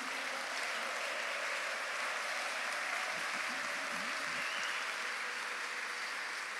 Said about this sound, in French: Est-ce qu'on peut encore nourrir nos acclamations pour lui?